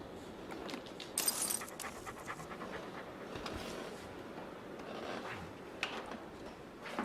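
A pet dog pants close by in quick, soft, rhythmic breaths. The sound is faint and steady, with a brief metallic jingle like keys near the start.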